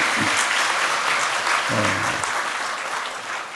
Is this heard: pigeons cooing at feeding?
no